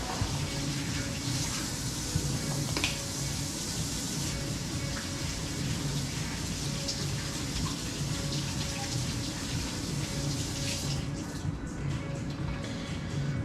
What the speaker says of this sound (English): So I'll rinse off my hands before I open the garlic.